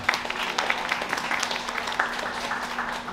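Applause from a seated audience at a Chinese-American heritage camp opening ceremony in New York, a steady wash of many hands clapping for about three seconds, fairly loud and continuous with no talk over it.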